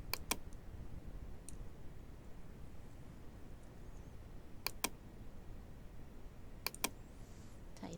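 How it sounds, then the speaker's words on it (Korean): Sparse mouse clicks and keyboard key presses while working in Photoshop, a few crisp isolated clicks spaced seconds apart, faint and close over a quiet room hiss. "자, 이때 Alt 누르고 고정점에 클릭해서"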